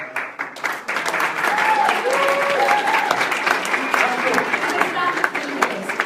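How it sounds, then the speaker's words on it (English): An audience at a WannaBe 2017 motivational event breaks into a round of applause, sustained dense clapping mixed with a few voices and cheers. "If everyone gives you a round of applause"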